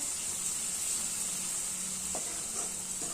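A masala paste of garlic, curry leaves and coriander fries steadily in a pan for a spicy traditional saar, giving a faint, even sizzle with a soft hiss and a brief stir near the end.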